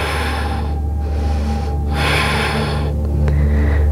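Yoga breathing during a core challenge session held for a count of five breaths: a few loud, close nasal inhales and exhales with short sharp airy bursts, no talking.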